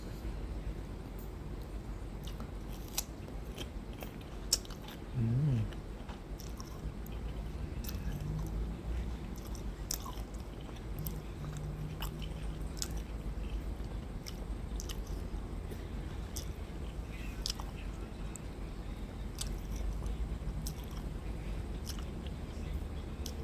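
Guava fruit being bitten and chewed, with faint wet crunches and squishy chewing sounds repeating close by over a steady low background hum.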